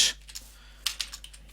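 Computer keyboard typing while HTML code is written: a few scattered, close keystroke clicks with a short burst at the start, alone with no talk.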